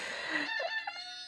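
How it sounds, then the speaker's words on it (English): A rooster crows once, a short, fairly faint call heard from a little distance, with no talking. "So that was my rooster."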